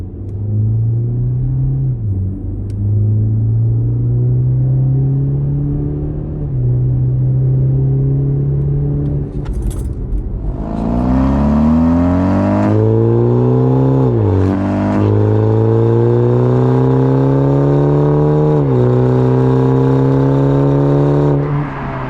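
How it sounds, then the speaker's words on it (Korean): A BMW X4 20i fitted with a variable exhaust accelerates hard at high speed, its loud low drone rising through several gear changes with brief dips between shifts. "다시 한번 유턴을 하고 좀 고속 주행을 한번 해볼게요."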